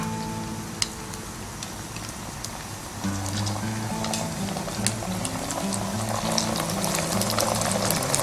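Green curry paste and coconut milk bubbling and stir-frying in a pan, a steady dense sizzle with small spatters, growing a little fuller partway through, with no talking.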